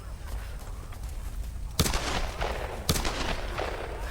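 Two sharp gunshots ring out in the Tomb Raider video game, spaced about a second apart over a steady low background hum, each with a brief crackling tail.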